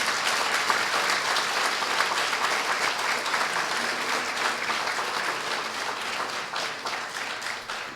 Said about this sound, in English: Let's give them a round of applause at this time.